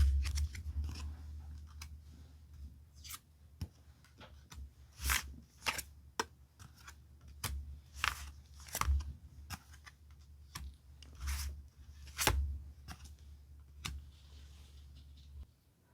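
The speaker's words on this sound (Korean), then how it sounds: "카드 5 장을 선택해 볼게요" Tarot cards are handled and picked on a table in a series of close, crisp flicks and light taps. They come at irregular intervals and are fairly quiet, with no talking.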